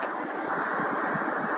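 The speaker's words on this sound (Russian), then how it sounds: "какой ветер." Wind rushes outdoors on a summer morning, a steady loud roar and rumble against the microphone with no breaks, and no one speaking.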